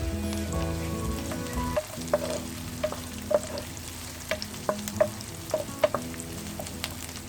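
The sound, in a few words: whole spices stirred in hot oil for biryani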